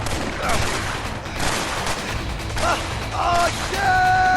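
Gunfire in the video game A Way Out, a dense rolling fusillade of shots over continuous loud action noise, with faint voices mixed in.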